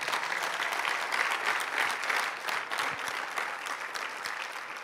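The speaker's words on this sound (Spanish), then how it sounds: "denle un aplauso al Señor" A church congregation applauds during a sermon, a dense, steady round of clapping that holds at even loudness for the whole stretch with no voices over it.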